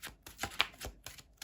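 Tarot cards shuffled by hand, a quiet run of soft riffling flicks and papery slaps in an irregular rhythm, close and faint with no voices.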